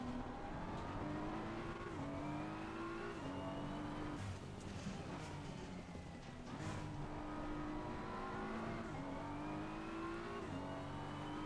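Race car engines in Assetto Corsa, a Porsche and a Mercedes racing close together, droning steadily at high revs with repeated upshifts in a rising then dropping pattern, continuous and moderately loud, with faint tire noise.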